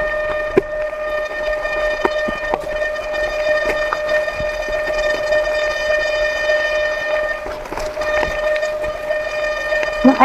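Train horn sounding during a bike ride, a steady, loud tonal blast held across the whole stretch with a strong fixed pitch and harmonics over road and wind noise, no talking.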